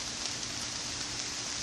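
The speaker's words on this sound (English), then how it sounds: "And this rain is intensifying as it is intensifying around me." Steady outdoor rain falling on a rainy Sunday, a dense even hiss with no break, fairly soft and heard alone without any voices.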